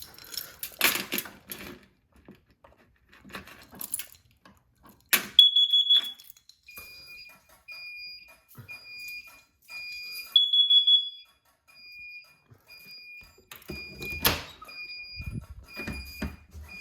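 Building smoke detector alarm during routine fire alarm system testing: sharp high-pitched chirps and a sustained piercing tone that cuts in and out, amid clatter and handling noises in a quiet room.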